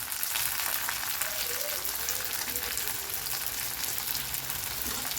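Onions frying in oil, a dense, steady, close crackle and sizzle with no pauses or voices.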